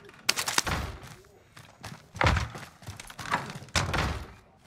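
Gunfire in Call of Duty: Modern Warfare, heard as several short, fairly quiet bursts of shots and thuds spaced a second or so apart, with muffled game noise between them.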